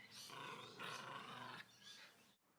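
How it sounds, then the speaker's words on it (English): A dog growls during aggressive play, a rough, continuous rumbling growl in several close, loud bursts that breaks off abruptly at the end. "The dog is changing direction and growling."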